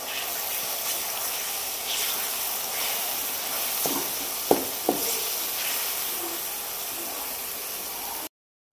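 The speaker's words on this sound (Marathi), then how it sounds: "आता चांगलं परतून घेते." A low, steady sizzle of finely chopped garlic and green chili paste being sautéed in a pan, with a few brief scrapes near the middle. It is fairly quiet with no talk and cuts off abruptly at the end.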